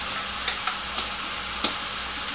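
Garlic added to cooked meat in a hot pan, a soft, steady sizzle with a handful of crisp pops and ticks, fairly quiet, no talk.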